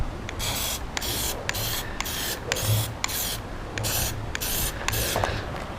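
Aerosol can of Plasti Dip sprayed onto a car dashboard, a series of close hissing bursts with brief pauses between them, steady and alone.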